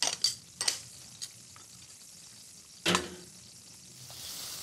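Sage and garlic paste are stirred in a pan, with a faint low sizzle and several sharp utensil scrapes and taps against the pan.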